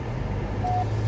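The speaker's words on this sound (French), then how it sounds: "J'ai un bibic parce que je m'approche un peu trop de la haie, alors bibi, ça sonne." A car's parking sensor beeps as the car edges too close to a hedge, a single steady tone sounding briefly over the low rumble of the idling engine.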